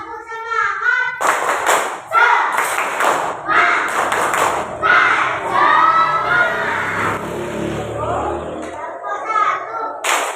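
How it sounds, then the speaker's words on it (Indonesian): A classroom of children leads a rhythmic spirit clap chant, with bursts of sharp clapping in counted groups alternating with loud chanted voices, close and energetic throughout. "Ibu minta tolong kepada Albi untuk memimpin tepuk semangat."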